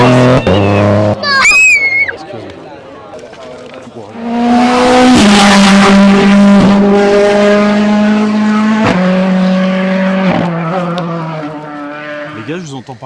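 A Toyota WRC rally car brakes and skids through a hairpin, tires squealing as the engine howls through gear changes, loud and close before fading, with spectators talking nearby.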